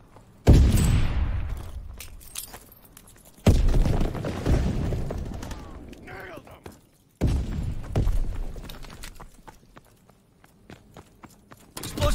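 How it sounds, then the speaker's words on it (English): Three stun grenade blasts in a Call of Duty match, each a loud, close thump that decays over a few seconds, spaced roughly three to four seconds apart with faint game sounds between. "Tossing stun grenade!"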